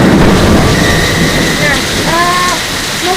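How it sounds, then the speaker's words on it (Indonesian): Heavy rain driven by strong wind pours down over the tourist village of Candirejo, a loud, steady, hissing roar that fills the whole stretch with no letup. "hujan deras melanda desa wisata Canirejo disertai angin"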